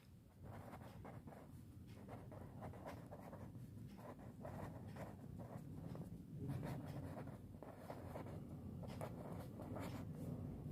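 A pen writing out an accounting trial balance, heard as a continuous soft scratching with rhythmic strokes, close and fairly quiet, with no speech.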